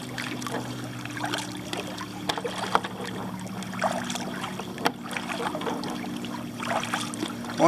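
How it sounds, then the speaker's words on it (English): Kayak paddling on Lake Wylie, South Carolina: steady close dips and drips of paddle blades in water, with soft splashes and a few knocks over a low continuous background hum. "Just got my knuckles again. Sloppy paddling."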